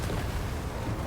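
Explosion in a video game battle, with a dense, continuous low rumble and crackle sustained throughout at steady loudness, no voices on top.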